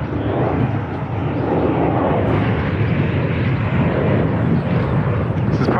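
An XK A170 Boeing 787 RC model plane flies overhead in the wind, giving a steady, loud, continuous motor drone with no pauses for several seconds.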